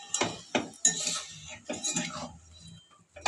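A spoon scrapes and clinks against a pan while capsicum chicken is stirred and sautéed, in a quick series of close metallic knocks and scrapes with short pauses between them.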